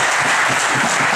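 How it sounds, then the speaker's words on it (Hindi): Loud, dense applause from an audience at a Hindi talk on the Indian constitution, a short burst of continuous clapping close up. "जरा जोरदार ताली तो बजाओ"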